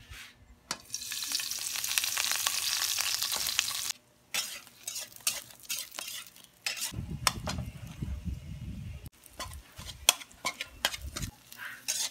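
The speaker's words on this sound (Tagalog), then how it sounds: "Lato tag itlog ron." An egg fries in a pan with a close hissing sizzle that drops out briefly, then returns alongside intermittent utensil clinks and stirring scrapes.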